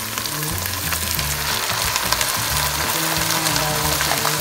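Garlic and onions fry in a pan while being browned for shrimp paste cooking, giving a loud continuous sizzle close by, with occasional stirring scrapes and no talk.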